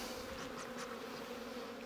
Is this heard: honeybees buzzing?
yes